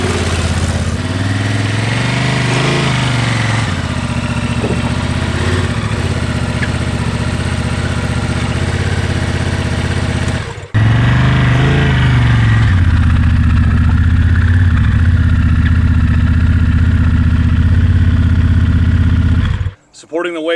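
A stock Honda Transalp 750 adventure motorcycle engine runs at idle, a steady loud mid-pitched rumble throughout, with a person talking over it.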